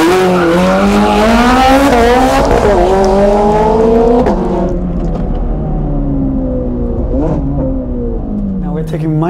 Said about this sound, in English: Now we're taking my Ferrari, my 430 Scuderia, for a proper blast up in the mountains.